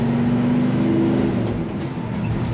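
A 1968 Ford F100 pickup truck engine idles and revs steadily at close range, a deep rumbling drone with a slight rise in pitch, no voices present.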